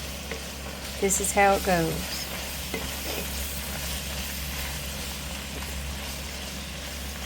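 Vegetable and meat filling for Kraut Ransin browning in oil, a soft continuous sizzle under a low steady hum, while a person speaks briefly early on.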